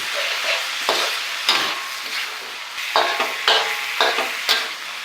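Fresh shrimp stir-fried in a hot pan for a southern Thai stink bean and shrimp paste dish, with a continuous close sizzle and rhythmic scraping strokes of a spatula against the pan, no talk.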